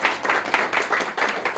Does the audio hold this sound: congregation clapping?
yes